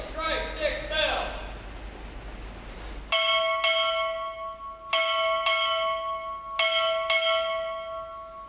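A ship's bell struck six times in three spaced pairs at a naval graduation ceremony, the clear, ringing strikes following a spoken command.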